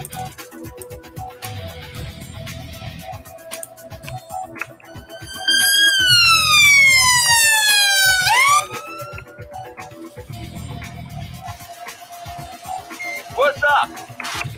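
A wailing ambulance siren from the Emergency 4 video game with a London modification, loud and sweeping down in pitch over about three seconds mid-clip, set against steady game ambience with scattered background noise.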